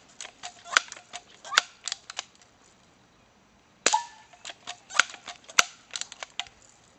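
A BB gun fires pellets in sharp, snapping cracks, a few scattered shots followed by a quicker cluster of bright clicks and pops after a short pause, close and crisp.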